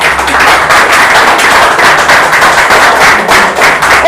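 Loud, dense round of applause from an audience at a Nigerian male pageant contest, sustained rapid clapping continuing evenly without talk.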